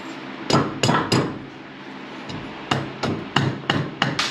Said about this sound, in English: The hammer, see it coming loose.